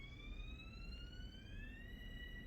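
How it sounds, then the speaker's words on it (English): A faint, steady electronic train cab beep from the video game Train Sim World, on the Long Island Rail Road, sustained throughout, its pitch slowly rising, over a low rumble. "It gives us little encouraging beeps."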